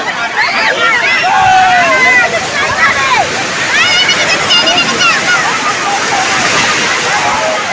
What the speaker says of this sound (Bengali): বিশাল ঢেউ, বিশাল ঢেউ আছে।